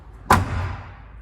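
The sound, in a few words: 1970 Chevrolet Nova car door closing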